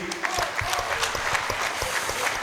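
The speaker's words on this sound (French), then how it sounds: "je voudrais d'abord qu'on applaudisse Kézi et Wewe." A studio audience at an evening show applauds the guests Kézi and Wewe. The clapping is lively and sustained at a fairly even level, with faint crowd murmur beneath it and no distinct talk.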